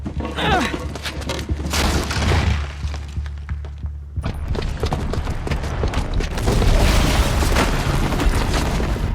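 In Horizon Zero Dawn, a booby-trapped bomb detonates with a deep, loud explosive boom and rumble, debris crashing and shattering amid continued low roaring, with a voice briefly present.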